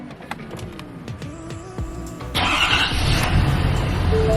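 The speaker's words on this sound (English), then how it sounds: "So I'm going to go ahead, turn on the truck, cycle it through the gears 3 times." A Ford 6.7L pickup truck with a 6R140 transmission cranks over briefly, then catches and settles into a loud, steady diesel running rumble close by.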